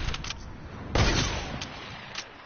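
A single heavy airstrike blast goes off in a video game and rumbles away, surrounded by fainter, distant pops and thuds on a muffled, moderately quiet background.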